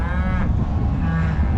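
A dry cow lets out one loud, close moo while being moved with its group on a farm, against low background rumble.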